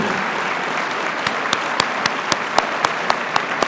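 An audience applauds a new doctoral graduate in public administration at a graduation ceremony, a dense, even wash of clapping with a few sharper claps standing out near the end.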